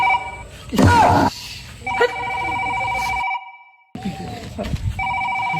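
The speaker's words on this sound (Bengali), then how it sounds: "আপনার ইমার্জেন্সি ফোন আছে।" A telephone rings in repeated electronic bursts, close and fairly loud, with a short silent gap before the ringing resumes, mixed with brief rustling and handling noises.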